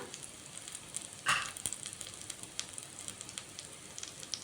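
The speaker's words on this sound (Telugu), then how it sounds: "అందుకు సిమ్లో పెట్టి వేయించుకోండి. మంచి ఆరోమా వచ్చేదాకా వేయించండి." Spices sizzling on a low flame in a pan for chicken biryani, a soft continuous crackle and hiss with scattered pops and one louder burst of spluttering, close and alone without talk.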